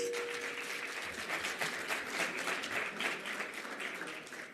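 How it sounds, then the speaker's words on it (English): At a hydrogen summit closing ceremony, the audience gives a round of applause: a dense, even wash of clapping from many hands, moderately loud, tapering slightly toward the end. "Are we able to please give them another round of applause?"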